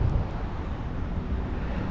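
Steady, strong wind over a backwater lake roars and buffets the microphone from a small boat with a low rumble, constant throughout and with no voices.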